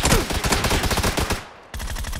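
Rapid automatic gunfire in PUBG, loud and close, bursts of shots rattling in quick succession, briefly tapering off before another burst starts.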